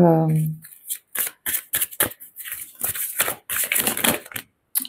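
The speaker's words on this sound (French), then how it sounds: "J'ai envie de tirer une carte pour vous." Tarot cards are shuffled and drawn: a brief voiced hum opens, then a quick, uneven series of close riffling slaps and papery flicks with short pauses between.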